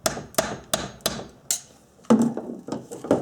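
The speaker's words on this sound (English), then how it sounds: "giving it a little tap with the friendly hammer" A hammer taps the handle of a screwdriver set on a screw in a Honda Trail 90 engine, giving about nine crisp, close knocks in an uneven rhythm.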